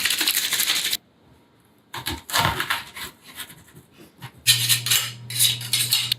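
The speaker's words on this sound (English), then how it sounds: "And we want to peel and crush our garlic." Garlic peeled and crushed on a cutting board: a few sharp knocks and scraping clatters in short bursts separated by quiet gaps, close and fairly clear.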